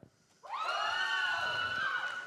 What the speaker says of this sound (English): Can we have a cheer from Thai?